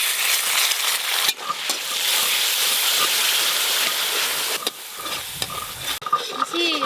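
Bengali five-spice and dried red chilies crackle and sizzle loudly in hot fish oil, a dense continuous hiss with spatula scrapes and brief dips near the end.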